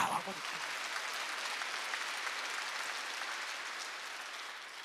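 A church congregation at a Wednesday worship service breaks into applause after a brief spoken word at the start, a dense, even clatter of many hands that holds steady and fairly distant for several seconds.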